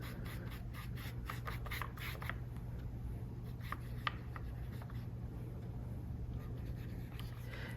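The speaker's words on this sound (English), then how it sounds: "If I still have yellow on my brush, I can just kind of wipe it over here on the placemat" A paintbrush carrying yellow paint is wiped across a placemat, giving a steady soft scratchy rubbing and brushing texture with small strokes, quiet and close, no talk.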